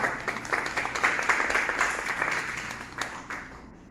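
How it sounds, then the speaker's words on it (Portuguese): Dense applause from a lecture audience, steady and fairly loud throughout, tapering slightly at the end. "Uma salva de palmas para ela."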